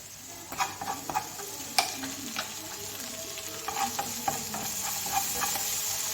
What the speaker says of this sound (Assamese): অকণ ভজা ভজা হ'বলৈ দিম।